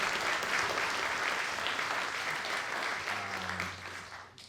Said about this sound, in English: give Martin a big round of applause for all he does for music in Cavan